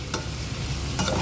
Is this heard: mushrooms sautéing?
yes